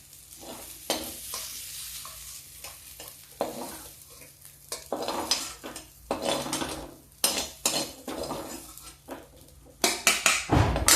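Cooked spinach from a home field being scooped and served from a pan onto a plate, with spoon scrapes, stirring clinks and soft sizzling from the low-flame gas stove, close and intermittent.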